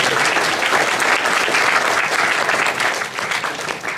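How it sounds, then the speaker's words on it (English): A convention panel audience at Anime Expo 2013 breaks into loud, sustained applause, a dense wash of many hands clapping close by and continuing throughout. "So please give yourself a round of applause."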